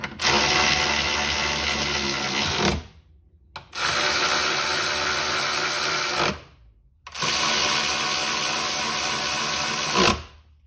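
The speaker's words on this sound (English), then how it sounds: "So just thread these on by hand, start tightening them." Power tool whirring while tightening front strut nuts on a 2006-2011 Kia Rio, three long loud bursts of several seconds each separated by short pauses, close up with no talking.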